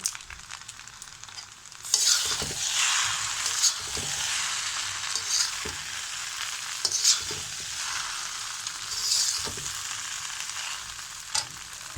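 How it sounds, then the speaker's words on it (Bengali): Chicken, vegetable, pasta and noodle mix stirred in a hot pan: a steady bright sizzle of frying with repeated scraping strokes of the spoon, close and loud, no talking. "এখন ভালোভাবে মিশিয়ে নেব।"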